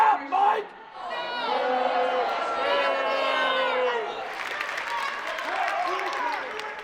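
An angry crowd at a town hall meeting with a Nebraska Republican, shouting and jeering in a loud wash of voices with scattered claps and yells, close, with a narrating voice also speaking.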